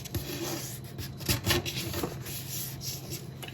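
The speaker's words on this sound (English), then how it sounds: "So you're going to take the corner and line it up here and fold it. Crease it really well." Paper is folded and firmly creased for an origami jumping frog, with close rubbing and scraping strokes, a few sharper swipes in the middle, and no talk.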